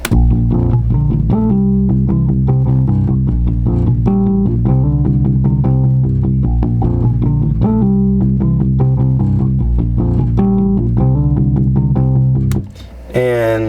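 Layered synth bass lines drive a hip-hop beat, looping heavy low notes under a repeating melodic pattern, loud and continuous before dropping out briefly near the end.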